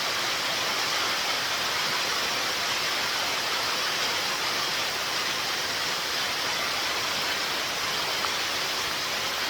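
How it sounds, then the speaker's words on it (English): Steady rain pours through the jungle in Panama, a dense, even hiss of water on foliage that stays loud and unchanging throughout, with no voices. "The sound of the rain coming into the jungle."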